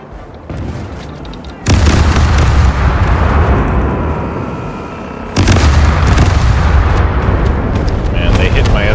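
Ship cannons firing bombs in the video game Caribbean Legend: a heavy, roaring boom bursts in, rumbles on, then a second loud barrage crashes in and sustains close and dense.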